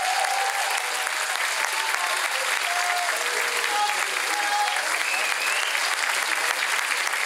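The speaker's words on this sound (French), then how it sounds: "applaudissez-les encore une fois." Audience at an ice show applauding, a dense, steady wash of many hands clapping throughout, with a few faint whoops or voices rising over it.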